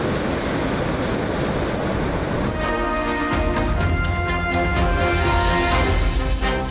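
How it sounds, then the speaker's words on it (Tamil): Rough, storm-driven sea waves pound the shore at Chennai's Marina, Pattinambakkam and Besant Nagar beaches during Cyclone Fengal, a loud, broad roar of surf for about two and a half seconds before music takes over. "மெரினா, பட்டினம்பாக்கம், பெசன்ட் நகர் உள்ளிட்ட பல்வேறு பகுதிகளில் 3வது நாளாக இன்றும் கடல் சீற்றத்துடன் காணப்பட்டது"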